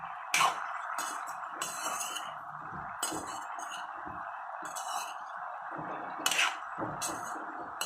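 Turmeric being stirred into a cooking pan with a utensil, light clinks and scrapes of metal against the pan repeating irregularly over a steady background hum.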